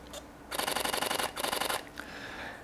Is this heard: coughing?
no